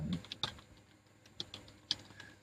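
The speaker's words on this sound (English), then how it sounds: "Typing in money changer again." Keys on a computer keyboard are tapped in a sparse, irregular handful of quiet clicks against a hushed room background.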